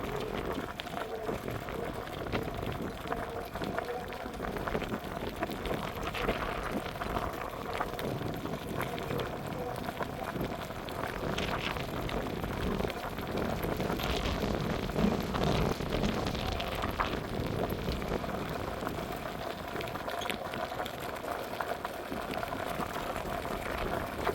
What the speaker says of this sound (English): Oh my god, this wind is terrible.